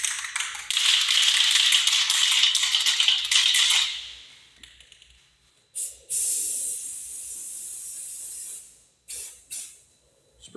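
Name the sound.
spray painting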